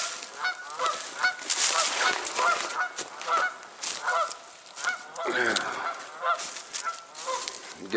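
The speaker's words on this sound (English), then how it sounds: "Apparently I pissed off a couple of geese." Geese honking repeatedly and loudly, a flurry of harsh overlapping calls close by, continuing without pause.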